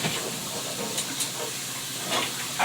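Tap water runs steadily from a faucet into a container for a homemade survival water filter, giving a constant close hiss throughout with no talking.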